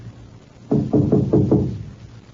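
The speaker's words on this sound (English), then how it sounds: "After just a moment of hesitation, Harry knocked." Knocking on a cottage door: five firm, evenly spaced raps in quick succession, close and clear against a quiet background.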